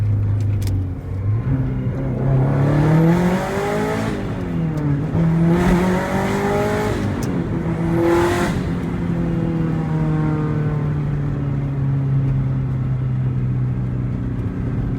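A modified 2004 Subaru STI pulls hard through the gears, its engine note climbing loudly in several rising sweeps with brief dips at each shift before settling into a steady drone.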